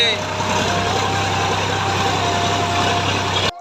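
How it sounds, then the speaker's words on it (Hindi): A tractor engine runs steadily while the tractor is driven out of a field after threshing, a continuous close mechanical drone with voices talking over it. "देखो मैं ट्रैक्टर ला निकाल रहे हूँ मताए के बाद"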